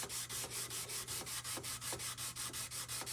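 Rhythmic back-and-forth sanding strokes on a steel knife blade made from a sawmill blade, about six per second, steady and close, with a dry rasping hiss and no voices.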